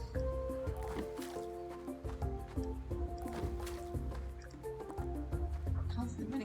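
A bucket splashes water over crops in the farming game Roots of Pacha, with soft drips and liquid squishes set against melodic background music and a voice talking over it.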